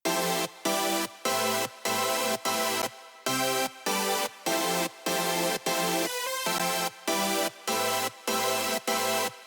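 Stacked layered chords drenched in reverb, struck in a steady rhythm of sustained blocks with short gaps, loud and alone with no voices.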